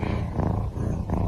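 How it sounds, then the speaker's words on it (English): A cat's deep, continuous rumbling purr up close, pulsing steadily with each breath and no other sounds. "Still just purring away."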